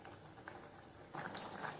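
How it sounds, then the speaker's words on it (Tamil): Faint, low bubbling of milk payasam with vermicelli, sago and coconut milk simmering in a pot, with soft pops and gurgles growing a little busier partway through. "இதுவும் சேர்ந்து நல்லா கொதிக்கட்டும்."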